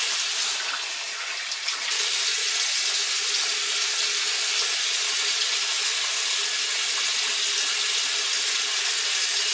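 Steady running water from a sink tap while someone rinses their face, a broad, even hiss that holds at a constant level from start to finish with no talking over it.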